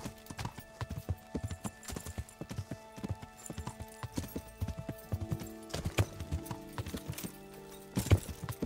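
Horse hooves clip-clop in a steady walking rhythm along a narrow forest path in Kingdom Come: Deliverance, close and clear, with a few heavier strikes near the end.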